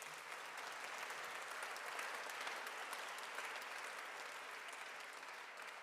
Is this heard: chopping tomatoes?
no